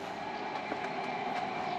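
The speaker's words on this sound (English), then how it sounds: "Oh, and the train coming in." A train in Luxembourg rolls into a station, a steady mid-distance rumble and rail noise with faint rhythmic clicks, no voices.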